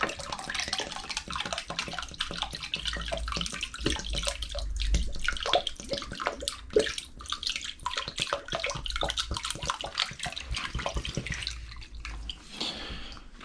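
Fresh room-temperature water runs and splashes steadily as dug-up old bottles from a Scottish bottle dump are washed, with irregular drips and clinks throughout and no voices.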